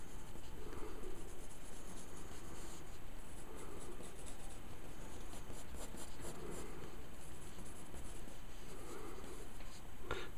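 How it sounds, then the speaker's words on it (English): Pencil sketching a skull drawing with wings, steady continuous scratching and rubbing strokes close up, with short bursts and pauses over about ten seconds and no talking. "I'm sketching really quick."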